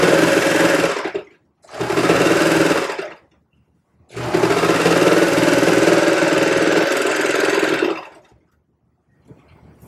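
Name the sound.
sewing machine sewing baby leggings pieces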